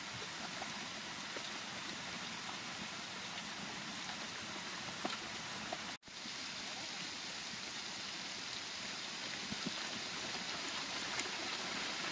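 Heavy rain pours down in a deep forest, a dense, even hiss of water on leaves and ground that runs steadily throughout, broken only by a split-second dropout partway.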